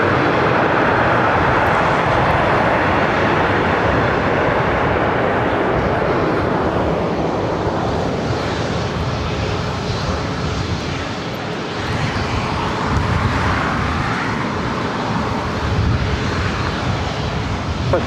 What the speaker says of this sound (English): This is Southwest Airlines 2979 coming in from Oakland on a 737-700.